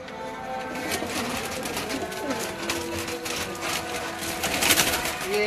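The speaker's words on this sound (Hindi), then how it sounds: "ये बाप है बड़ा जंगली कबूतर" A large wild pigeon coos on a rooftop in Rahmanpura, Ichhra, its low rolling calls repeating steadily under men's conversation.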